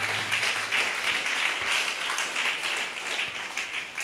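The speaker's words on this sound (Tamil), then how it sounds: "கைத்தட்டி ஒரு அலையில சொல்லுங்கள்." A church congregation clapping hands together during a sermon, steady overlapping applause filling the hall at moderate loudness with no talk over it.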